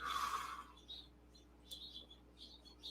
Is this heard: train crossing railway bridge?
no